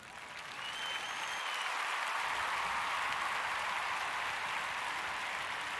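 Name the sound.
applause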